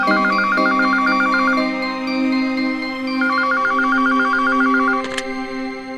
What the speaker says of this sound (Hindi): वो सुनीता का फोन बिजी आ रहा था तो इसीलिए लैंडलाइन पर फोन कर लिया